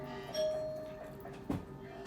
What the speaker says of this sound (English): That was the doorbell.